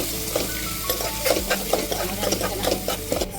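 Grated mango hits a hot frying pan and is stirred for mango vermicelli pulihora, giving a steady sizzle with close scraping and clinking of the spoon against the pan.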